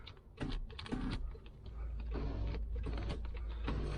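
Electric seat motors in a 1995 Range Rover Vogue SE whirring close by, several short buzzing runs that stop and start, then a longer steady drone toward the end.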